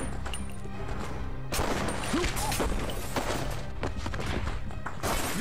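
Repeated gunfire from enemies aimed at the player in The Punisher on the original Xbox, dense thumps and crashing shots layered through a busy game soundscape, fairly loud and continuous.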